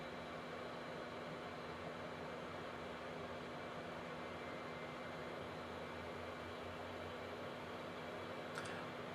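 Concorde jet engines in the X-Plane 11 flight simulator, a steady, even broadband roar with a faint constant hum underneath, unbroken for the whole stretch with no talking.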